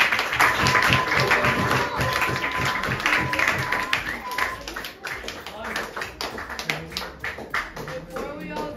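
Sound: applause for a guest speaker at a school STEM Day

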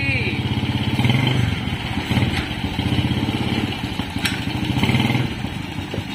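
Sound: old three-wheeled motorcycle on test ride

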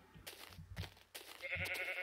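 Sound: sheep bleating in video game Minecraft

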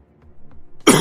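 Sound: cough

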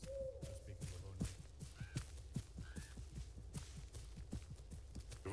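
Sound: owl hooting in the video game Arma 3

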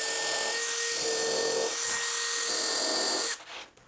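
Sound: drill with pilot countersink bit drilling holes

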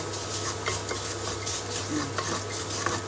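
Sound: dry-roasting cinnamon and star anise spices in pan

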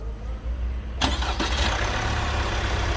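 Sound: diesel car engine starting

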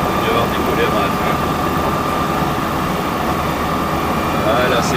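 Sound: light aircraft engine at full power during takeoff roll

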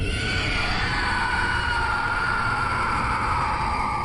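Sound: eerie scream sound effect

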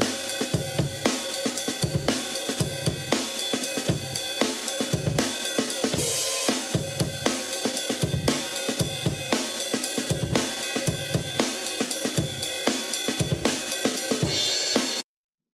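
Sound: drum and bass drum break loop, pitched up, jungle texture

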